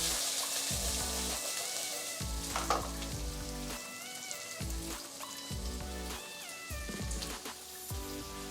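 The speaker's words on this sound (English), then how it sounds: "And I'm adding the TIndora in the pan. Just going to give it a mix." Tindora (ivy gourd) hits a hot pan for an Indian tindora nu shaak and sizzles loudly and steadily. Bursts of scraping stirring recur every second or so over the constant frying hiss.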